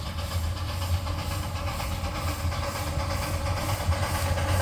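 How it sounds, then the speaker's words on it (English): Steady rumble and hiss of a steam engine train with ride carts at a park, a continuous close mechanical drone with faint rhythmic clatter and no talk. "I got a chance to record the steam engine"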